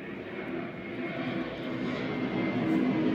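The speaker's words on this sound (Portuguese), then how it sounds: "Ó o avião vindo." A propeller or jet airplane passes overhead as a steady, broad rumbling drone that swells slightly louder toward the end, with no talk over it.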